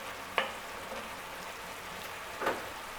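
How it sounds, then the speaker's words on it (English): Onions frying in a cook pan for French onion soup, a steady soft sizzle with two brief louder stirring scrapes, close and without talk. "Now we're just going to cook these, continue stirring until they begin to caramelize"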